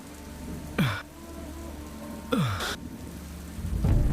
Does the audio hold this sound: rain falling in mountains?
yes